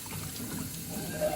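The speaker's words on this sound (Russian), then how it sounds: "Сколько воды вот так льется, знаете." Water runs steadily from a kitchen tap into a sink during dishwashing, a continuous close splashing flow with small clinks, no talking.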